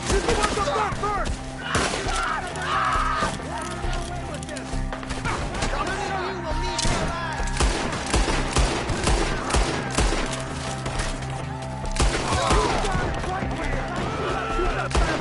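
Gunfire in the video game Red Dead Redemption: dense, repeated shots and rapid volleys go on throughout, loud and overlapping, with shouting voices mixed in during a treetop ambush.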